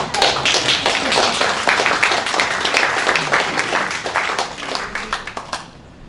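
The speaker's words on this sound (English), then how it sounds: "let us applaud in advance so we know we'll be good" An indoor audience at an evening presentation breaks into dense, sustained applause, a thick wash of many hands clapping at once that holds steady and then thins out near the end.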